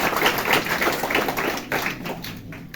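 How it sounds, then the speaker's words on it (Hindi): An audience at a student gathering claps for a speech, a dense burst of applause that is loud at first and then thins out and fades. "आपके लिए सहस्त्र तालियां।"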